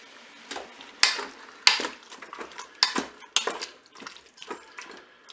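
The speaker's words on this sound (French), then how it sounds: "je mélange." Red beans and canned peeled tomatoes stirred with a utensil in a Cookeo electric pot for a Tex-Mex beef bourguignon, a series of close clinking and scraping strokes against the pot with a wet slosh.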